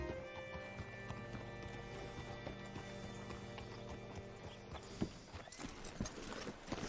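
Horse hooves clip-clop at a walk in Red Dead Redemption II, with a whinny and game music in the background, all fairly quiet, with a sharper thud near the end.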